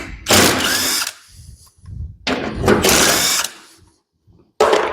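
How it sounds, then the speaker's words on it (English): A big impact wrench pulls wheel bolts off a Firebird, giving three loud, close bursts of hammering whir, each about a second long, separated by short pauses. "you want to grab the big impact and let's pull the wheels off"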